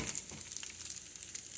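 Kimchi and bologna fried rice sizzles in a hot pan, a faint, close crackle of frying with soft scattered pops and no voices.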